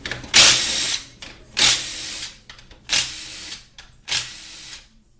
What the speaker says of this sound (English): We'll remove all the 10mm bolts.